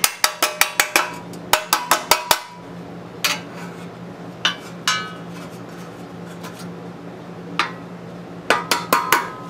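Hammer blows on a bent steel part of a 1940s Harley Servicar utility box clamped in a big vise, bright metallic clangs in quick bursts of several strikes with pauses between, close and loud.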